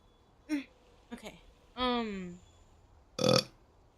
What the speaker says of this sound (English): Did you just try to burp louder?